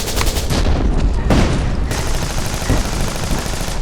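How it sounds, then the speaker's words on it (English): Video-game battle sounds with a grenade explosion amid heavy infantry gunfire, loud and dense throughout: rapid rifle and machine-gun bursts overlap, with a booming blast partway through. "Grenade!"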